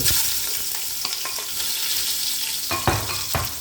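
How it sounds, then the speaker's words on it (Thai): Garlic, coriander root and shiitake mushrooms stir-fry over gentle heat for braised pork belly, a steady soft sizzle with a few spatula scrapes and taps against the pan. "ผัดให้เข้าหอมนะคะ อย่าใช้ไฟแรงนะคะ"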